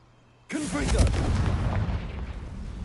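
The Confringo fire spell going off in Hogwarts Legacy, one sudden loud boom that breaks into a long, rumbling roar before slowly fading.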